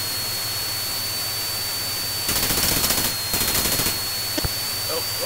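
Rapid aircraft cannon fire in the flight-combat video game Chuck Yeager's Air Combat, two loud sustained bursts of about a second each over a steady engine drone, followed by a couple of isolated sharp shots.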